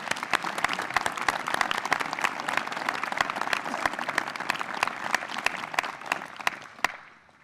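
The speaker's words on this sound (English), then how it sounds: "Please join me in a round of applause to the staff." A graduation ceremony audience at the University of Virginia Darden School in 2014 gives the staff a sustained round of loud, dense clapping that tapers off at the end.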